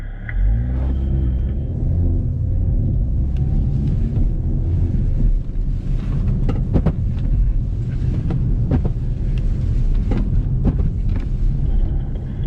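A Hyundai 2020 Veloster N with an 8-speed dual-clutch transmission pulls away, its engine rumbling loud and close, with revs rising and dropping through gear changes and a few sharp pops, and no talking over it.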